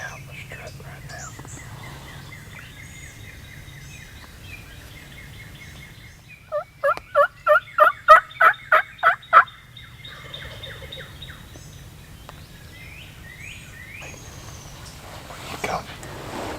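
Wild turkey gobbling while strutting in a cornfield, a single rapid rattling gobble of about ten pulses from mid-distance, with quiet whispered talk and faint birds around it.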